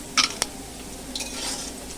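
Small puti fish fry in oil in a pan with a soft steady sizzle, broken by two sharp clinks of a utensil against the pan early on and a brief scrape of stirring, close and without talk.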